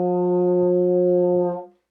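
A baritone horn holds one steady, rich low note for under two seconds, then fades out cleanly.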